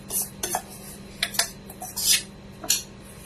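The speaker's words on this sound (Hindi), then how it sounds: "इसी में ऐड कर देंगे मिलेट्स, और इसी में थे हमारा मेथी दाना भी" Millet grains and fenugreek seeds tipped by hand into a kitchen container for millet dhokla batter, heard as a few short, bright rattling patters and clinks spread over a few seconds, close and fairly quiet, with no talking.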